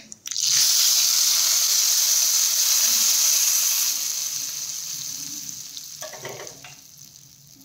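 Hot tempering poured onto dal khichdi erupts into a loud, close sizzle that hisses strongly for a few seconds, then gradually softens with faint crackles and bubbling.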